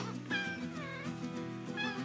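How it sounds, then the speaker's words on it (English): A barn cat on a goat farm gives a couple of close, clear meows in quick succession, alone without talk. "and Gary the barn cat."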